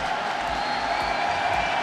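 Basketball arena crowd at a FIBA Asia Cup 2017 game between Hong Kong and Chinese Taipei gives a steady, moderate wash of applause and murmur, heard from a distance with no distinct individual claps.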